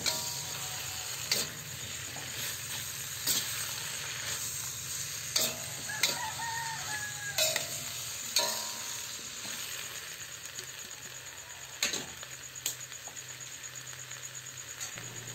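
A spatula stirs pinakbet with pork in a frying pan, with scattered scraping and clattering strokes over a constant sizzle, close up and without talk.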